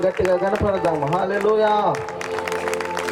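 A church congregation claps at a New Year blessing service, scattered hand claps rising beneath a man's loud, sing-song speaking voice and continuing after he pauses.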